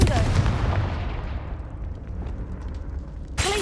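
A loud fiery blast from the Confringo spell in the game Hogwarts Legacy booms at the start and rumbles away over several seconds, with a second burst cutting in at the very end.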